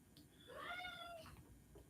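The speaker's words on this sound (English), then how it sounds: "That's my cat." A pet cat gives one drawn-out meow close by but quietly, rising and then fading over about a second against a hushed indoor background.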